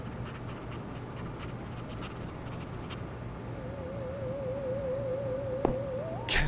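A dog panting in the video game Harvester, a quiet rhythmic breathy pant repeating steadily over a low hum, with a faint wavering tone entering partway through.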